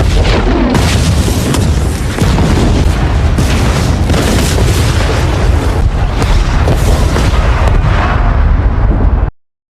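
Loud, rolling bomb blasts and booming explosions, repeated and overlapping in a dense barrage before cutting off abruptly.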